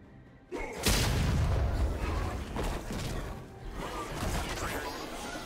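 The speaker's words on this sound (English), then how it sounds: "Red Team's turret has been destroyed." A turret collapsing in League of Legends: a loud, heavy boom and crash bursts in suddenly, then rumbles on with scattered impacts and game effects that slowly taper off.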